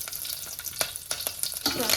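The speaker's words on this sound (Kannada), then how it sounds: "ಕರಿಬೇವಿಗೆ ಮೆಣಸಿನಕಾಯಿ" Curry leaves and chillies hit hot coconut oil for a tempering, crackling and spitting in quick bursts with a light scrape of stirring, close and moderately loud.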